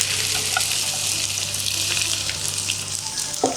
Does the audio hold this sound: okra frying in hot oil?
yes